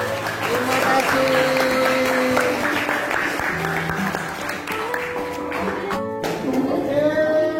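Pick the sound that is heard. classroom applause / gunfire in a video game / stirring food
classroom applause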